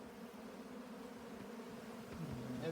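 A swarm of honeybees drones around a colony after light smoking, a steady continuous buzz that swells slightly toward the end as bees pass close, with no talking.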